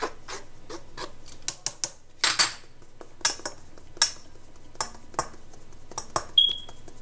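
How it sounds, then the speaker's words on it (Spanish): Two cups of flour and a pinch of salt are sifted for soft flour tortillas, giving a series of sharp, irregular taps and light clinks spaced across several seconds, close and fairly quiet with brief rustles between. "Y vamos a tamizar todo muy bien."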